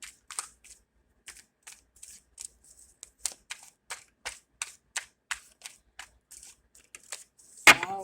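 Tarot cards being shuffled by hand in a series of quick, crisp riffles and flicks, separated by short pauses, ending in one louder slap of the deck.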